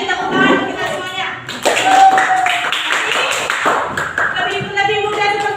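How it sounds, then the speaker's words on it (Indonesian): Scattered clapping in a classroom, a few hands patting irregularly rather than building into full applause, with children's voices talking and shuffling over it throughout. "Beri tepuk tangan untuk kita semuanya"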